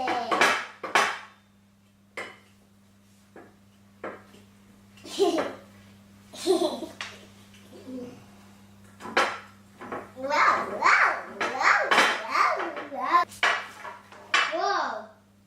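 Children mixing cupcake batter in a bowl at grandma's, with scattered clinks and scrapes of utensils against the bowl between bursts of kids' chatter and an adult voice, close and intermittent.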